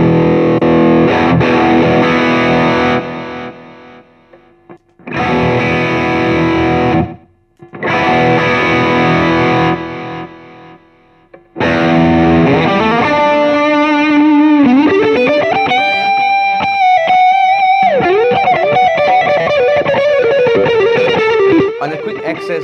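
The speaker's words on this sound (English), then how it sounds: "all the three pedals in my loop is engaged, which is the Mojo Effects Rook, the Friedman Shirley, and the MXR EQ." Loud, heavily distorted electric guitar through a Mojo Effects Rook, Friedman Shirley and MXR EQ: bursts of chunky riffing separated by short gaps, then a sustained soaring lead with bending, held notes, played alone without talk.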